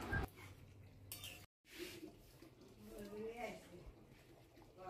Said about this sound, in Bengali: তো এই পর্যায়ে ভেজে রাখা পটলগুলো দিয়ে ভালো করে নাড়িয়ে চাড়িয়ে নিচ্ছি।